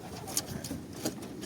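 A pet bird with one bad eye, pink in colour, coos softly in a short, faint burst of low calls against a hissy background.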